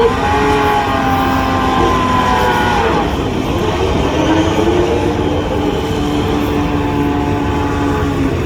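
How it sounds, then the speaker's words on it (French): Two Porsche 962C race cars from 1986 and 1987 drive one after the other on the Le Mans circuit during a centenary classic parade, their engines a loud, continuous roar with shifting pitch as they pass close by. "C'est l'une après l'autre, ces deux Porsche 962C."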